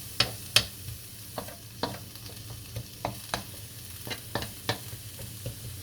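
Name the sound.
ground beef frying in melted butter on the stove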